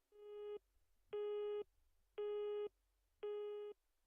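A telephone busy signal in the horror game Ordeal Call 2 sounds as four evenly spaced, steady electronic tones about half a second each, separated by silences, clear and alone.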